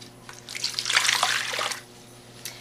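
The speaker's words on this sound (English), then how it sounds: "So I'm gonna first of all I'm gonna put in my two cups of water first." Water pours into a container in one steady stream for about a second, close by, then stops.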